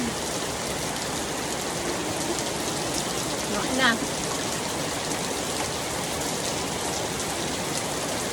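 Steady rain pours down on a leaking house, a dense, constant hiss; a person speaks briefly partway through.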